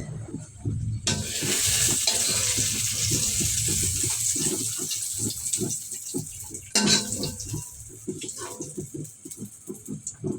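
Dried chillies dropped into hot oil as a tempering for dal, starting with a sudden burst of sizzling that continues as a busy crackle with stirring clatter, swelling again midway, under a quiet kitchen.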